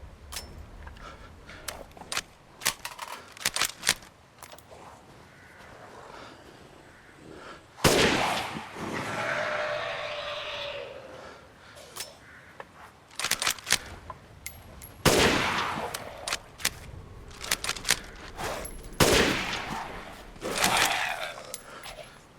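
Dual-wielded pistols fire in Resident Evil Village on PSVR2, with irregular bursts of sharp close shots, some rapid and clustered, and louder blasts and rumbling impacts between them.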